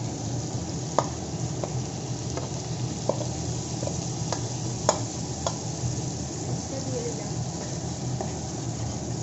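Spice paste for butter chicken frying in a pan, giving a constant dense sizzle with occasional sharp clicks of a spoon against the pan, and no voice over it.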